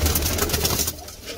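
Pigeons coo in a loud, close burst over background noise, fading after about a second.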